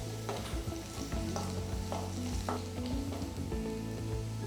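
Green chilies and curry leaves sizzle steadily while being sautéed in a pan for a potato peas curry, with a constant close frying hiss and periodic scraping strokes of a stirring spoon.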